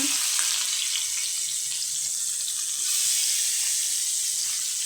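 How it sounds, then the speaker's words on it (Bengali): Fish hits hot oil in a pan, producing a loud, continuous close-up frying hiss that stays even throughout without speech. "গরম তেল গরম হয়েছে ওখানে যে মাছগুলো দিয়ে দিব"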